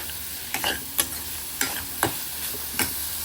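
Potato tikki filling stirred and fried in a pan until crisp, with a steady soft sizzle and several sharp scraping strokes of a spatula spaced about half a second apart, close and moderately loud with no talking.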